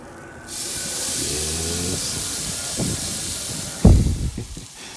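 A seasoned red chicken breast skewer hits a hot grill with a sudden loud hiss that settles into steady close sizzling, with a sharper crackling burst near the end, no talk.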